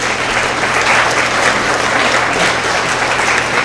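Loud, continuous applause from a school assembly crowd honoring 6th to 8th grade English language arts award winners, an even wash of many hands clapping at once.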